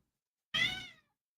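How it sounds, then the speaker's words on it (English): A cat lets out one short, loud meow, close by and alone, with silence around it. "cat noise"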